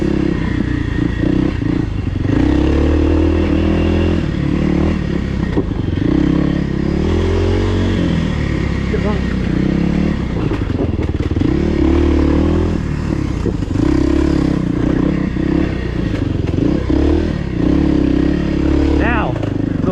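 A 2024 Kawasaki KLX300R dirt bike rides the HMT Tornado singletrack trail, its engine droning steadily and loud throughout with rises and dips in revs, plus clatter and scraping from the rough ground, while a voice talks over it.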